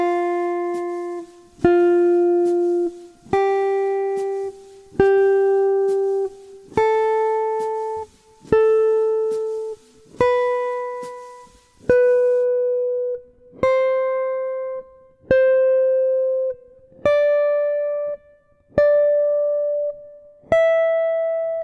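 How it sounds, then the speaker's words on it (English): Jazz guitar plays a slow series of single notes at the same or closely stepped pitch on different strings, fourteen clean plucks about 1.5 seconds apart, each ringing and decaying alone. "we're going to play notes of the same pitch on different strings"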